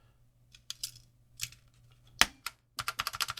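Plastic keycaps are pressed and snapped back onto a TRS-80 Model 2 keyboard during refurbishment, giving scattered sharp clicks that build into a quick run of close, crisp snaps, with no talking.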